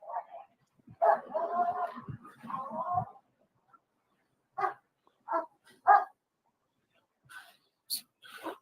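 A dog barks and yaps in several short bursts, fairly close, as it is led around a car, with gaps of quiet between them.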